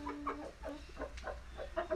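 An aggressive Aseel hen clucks close by in a quiet setting, a string of short, soft clucks in an uneven rhythm of about seven or eight calls over two seconds.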